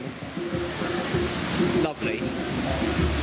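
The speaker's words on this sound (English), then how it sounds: "There's that waterfall again." A waterfall at the Phantasialand theme park roars as a steady, close rush of water, with a brief voice heard faintly over it.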